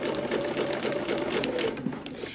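Sewing machine running steadily as it stitches bias binding around a curved edge of a dress, a close, continuous motor whir with fine rapid needle chatter.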